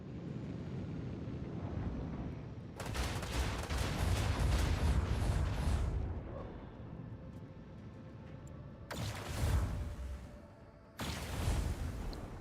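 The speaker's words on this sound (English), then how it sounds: "There's a lot of missiles." Missiles firing and exploding in the Warhammer 40k Rogue Trader video game: loud rumbling blasts arrive in several heavy bursts with roaring decay, separated by quieter stretches of low rumble and humming tones.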